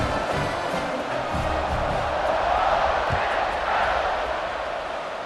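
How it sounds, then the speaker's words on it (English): A simulated college football stadium crowd roars in a steady, dense wash of cheering before a kickoff, loud and continuous beneath a commentator's voice. "this crowd now ready to get behind them"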